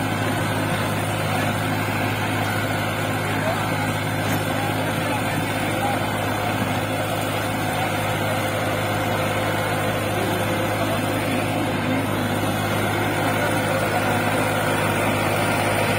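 A New Holland 3600-2 Super tractor engine drives a rotavator in a field at dusk, producing a loud, unbroken, steady drone with constant mechanical rumble for the whole stretch.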